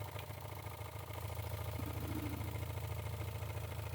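A Jensen #35 live steam engine with its flywheel spinning, a quiet, steady low hum with a fine regular beat, faint and unchanging throughout.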